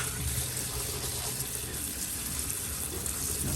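Steady rushing tap water pours into a tumbler polish barrel during rinsing, a continuous close splashing flow with no pauses.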